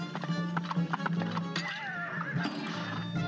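A horse neighs and whinnies amid clip-clop hoof sounds in the video game Cuphead, loud and close over a steady game music backdrop, with no talking.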